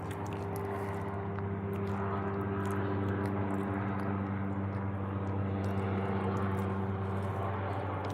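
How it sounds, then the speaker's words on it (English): Helicopter passing overhead outdoors: a steady low droning hum with strong tonal bands, moderately loud and continuous throughout, with no speech over it. "a helicopter."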